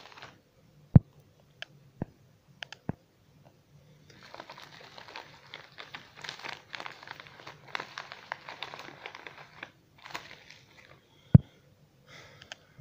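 Parcel from China being unwrapped: a few sharp isolated clicks, then several seconds of continuous crinkly plastic rustling and handling noise at close range, fading back to quiet with one last click.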